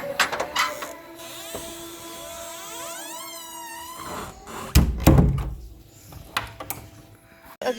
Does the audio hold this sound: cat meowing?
no